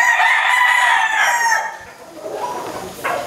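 A Leg Hatch gamefowl rooster crows loudly and close up in a single long, drawn-out call that trails off, followed by faint rustling.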